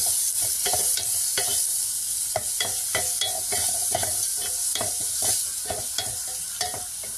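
Crushed garlic and vegetables frying in a pan, a constant bright sizzle with frequent rhythmic scrapes and clacks of a spatula stirring close by.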